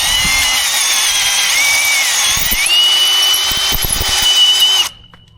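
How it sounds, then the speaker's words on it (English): A power drill spins a 3/8 drill bit inside a rusty hole on farm equipment, reaming out rust with a steady high-pitched whine and grinding that shifts in pitch partway through, loud and close, then cuts off abruptly near the end. "now I'm gonna take this my 3/8 drill bit, and I'm just gonna clean out this hole"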